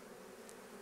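Honey bees hum inside a farm beehive, a faint, steady buzzing drone that runs continuously through a short moment with no voices.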